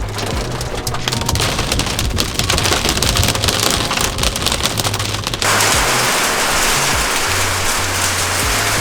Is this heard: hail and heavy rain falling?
yes